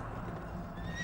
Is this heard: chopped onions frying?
no